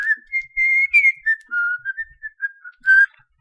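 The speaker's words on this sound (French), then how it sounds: "où on l'entendit bientôt siffler joyeusement" A man whistles a cheerful, wandering tune in a bathroom, a run of clear sustained and fluttering notes with short breaks, close and alone.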